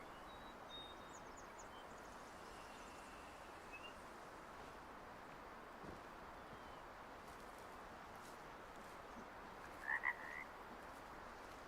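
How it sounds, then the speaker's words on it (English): Frogs croaking in the hunting game Way of the Hunter, a dense continuous chorus of rapid croaks filling the outdoor ambience at moderate distance, with a brief bird chirp near the end. "Frogs up here, I guess."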